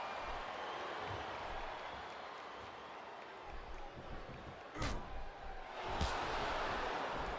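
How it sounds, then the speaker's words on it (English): A large arena crowd at a wrestling event in Smackdown vs Raw 2007 roars steadily in the background, a dense continuous cheer with a couple of sharp thuds cutting through near the end. "It sounds like this capacity crowd has something on their minds"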